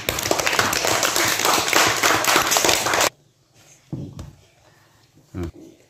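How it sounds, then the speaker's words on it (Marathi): Children at a newspaper paper-hat craft session clap together in a loud, busy round for about three seconds, then it stops abruptly, leaving near silence broken by a few light taps and thumps. "टाळ्या वाजवा."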